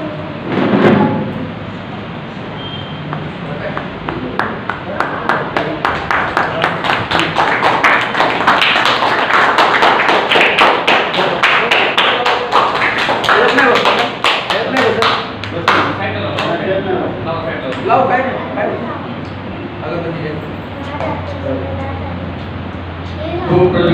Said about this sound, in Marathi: त्यांच्या मातोश्री म्हणजे सर्वांनी टाळ्या वाजवाव्यात